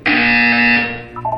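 A loud, harsh electronic buzzer from the video game Portal 2 blares alone for about a second, then fades, with a short sound trailing after it.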